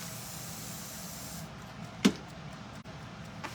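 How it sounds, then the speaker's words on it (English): Cleaner sprayed onto a printing screen clogged with paste, a steady close hiss that cuts off partway, followed by a brief sharp spritz and faint handling noises. "Spray this side too."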